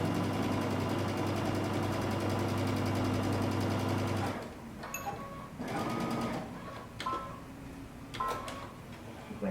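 A sewing machine stitches straight off the end of a dart with a fast, even mechanical whir for about four seconds. It then stops abruptly, and soft handling and rustling noises follow.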